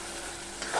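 Prawns coated in turmeric, salt and lemon being stirred and sautéed in a pan of masala, a soft steady sizzle with a brief scrape of stirring near the end.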